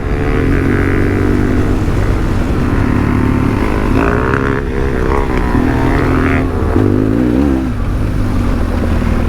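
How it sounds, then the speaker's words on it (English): A Honda CRF 300 motorcycle cruises along with a loud, steady engine drone and constant wind rush, its pitch shifting slightly as the rider works the throttle. "CRF 300, and the beast is just cruising along, eating it up."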